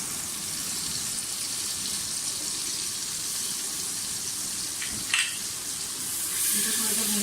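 Green chili paste and ginger-garlic paste frying with onions that are turning pink in a pan for a summer kadu gosht (bottle gourd and mutton) dish, giving a steady, even sizzle throughout with a brief stirring scrape near the end.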